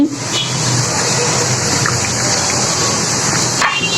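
Water pours in a steady, loud gush into jalebi batter made with a little salt and baking powder, a continuous close splashing flow that ends abruptly near the close.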